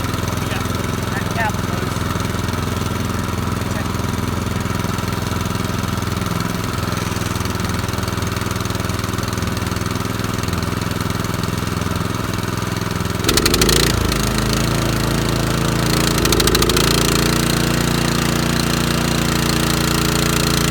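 A Harbor Freight gasoline trash pump engine runs steadily and loudly at close range, a rough buzzing drone that shifts in tone partway through as the choke is fully opened, with the engine note roughening and surging afterward.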